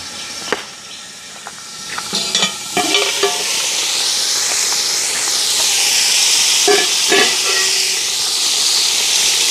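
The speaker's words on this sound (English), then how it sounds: "we'll just lock back the pot and make them go and steam down nicely" A pot of curry chicken with crushed Irish potatoes in coconut sauce steams on the stove, giving a loud, steady hiss that swells and persists, with a few brief clinks and stirring knocks early on.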